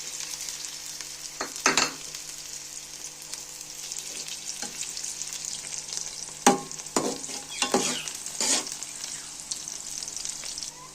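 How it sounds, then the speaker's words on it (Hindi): Onions browning gently in mustard oil in a home kitchen pan, a steady soft sizzle with occasional louder crackles and stirring scrapes, no talk. "यहाँ पे हमारा प्याज ब्राउन हो रहा है हल्का हल्का।"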